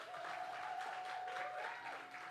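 Poetry slam audience keeps up a steady round of clapping for a performer, continuous and moderately loud with a faint whoop or tone riding over it.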